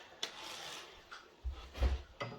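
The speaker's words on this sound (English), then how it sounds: "slide our drawer like that" An IKEA wooden drawer slides into its assembled unit, producing quiet rubbing and scraping with a few soft knocks and thuds toward the end, close by with no talking.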